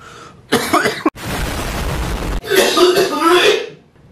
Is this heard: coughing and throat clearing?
yes